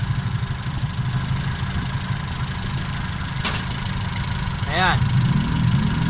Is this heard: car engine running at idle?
yes